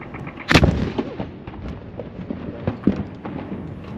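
A single heavy boom from the noon gun, a real cannon fired daily at the hilltop Halifax Citadel fort, cracks out sharply, followed by a rumbling outdoor echo and a fainter second report.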